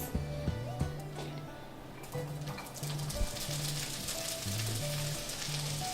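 Onions fry in sunflower oil in a pan on the hob, a steady sizzle that grows denser after they go in, with scattered clatters and a repeating electronic beeping tone over it.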